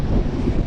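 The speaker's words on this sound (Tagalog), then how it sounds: "malakas po ang hangin dito" Strong wind buffets an outdoor microphone near the sea, a steady loud rumbling roar with no pauses, where fish are being cooked by the water.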